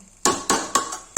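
A metal lid clanks down onto a pot of mutton curry: three sharp, ringing metallic knocks in quick succession, close and alone.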